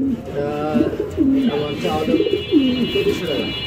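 Yellow Huma pigeons at a pigeon farm coo in repeated low, throaty rolls close by, several birds overlapping, with someone speaking and faint chirps in the background.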